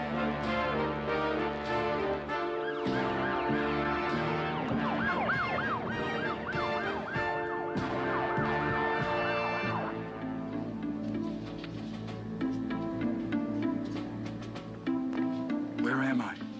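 An ambulance siren wails loudly and continuously for over fifteen seconds, its rising and falling tones layered with music and a busy mix of background sound.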